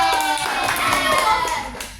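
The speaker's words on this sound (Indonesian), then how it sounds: "Kasih tepuk tangan dong." Brief clapping from an audience at a school Kartini Day contest storytelling performance, short and moderately loud, with voices and someone speaking through it.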